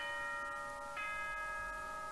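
A Danganronpa announcement chime rings out as sustained bell-like tones, with a second set of bright notes entering partway and ringing steadily over faint background noise.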